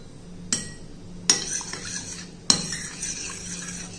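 A spoon clinks sharply against a bowl three times, followed by soft scraping as a cooled dosa batter mixture is stirred, close and fairly quiet.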